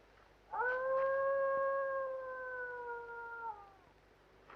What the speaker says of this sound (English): The dogs are restless.